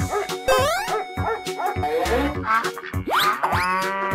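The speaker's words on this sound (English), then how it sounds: "Dog." A cartoonish dog barks and yips in a bouncy sequence mixed with playful sound effects and boings, loud and close, in a children's animal-sound run.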